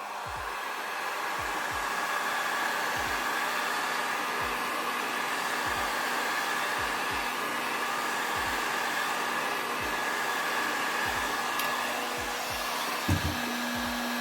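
A hair dryer blows in a continuous loud whir, heating chrome wrap foil on the top horns of a B.C. guitar body, with a few soft taps on the surface and no talking.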